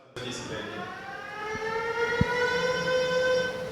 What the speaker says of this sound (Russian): В последние дни эта сирена стала неотъемлемой частью жизни специалистов Черноморэнерго.